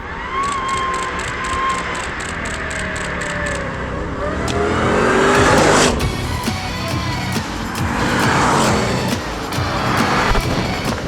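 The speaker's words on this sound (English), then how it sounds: "we're finally out in the MMD by Foose 2015 GT here, and you're putting this thing through its paces a little bit" A custom MMD by Foose 2015 Ford Mustang GT with a 650-plus horsepower V8 accelerates hard, its loud engine note rising and falling through gear changes, heard close and steady for several seconds with no talking.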